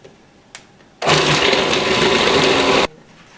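A food processor pureeing about one and a half medium onions kicks in abruptly with a loud, steady whirring roar, runs for roughly two seconds, then stops dead, with a light knock just before it starts.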